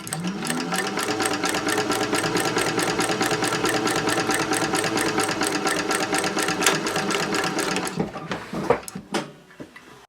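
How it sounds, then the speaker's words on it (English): A sewing machine back stitches along a seam, running in a rapid, even mechanical rattle close up for about eight seconds before slowing and stopping amid a few clicks and handling sounds. "I've dropped my needle into the work right where those two lines intersect, and I am going to back stitch"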